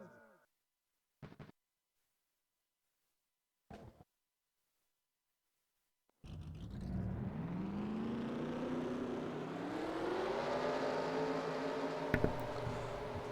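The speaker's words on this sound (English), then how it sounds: "Drivers, start your engines!" Race car engines starting up together in a racing video game before a Denver cup-series race, a few brief blips then a sustained loud rising engine roar from the whole field.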